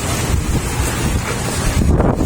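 Strong, gusty storm wind roars and buffets the microphone continuously, with a constant heavy rushing noise and no voices.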